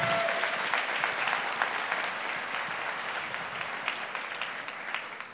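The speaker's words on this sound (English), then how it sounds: "Big round of applause for Frank and Liz Blake." Loud, sustained crowd applause at a charity ball greets a $20,000 donation, many hands clapping densely and close by, holding strong throughout with no speech over it.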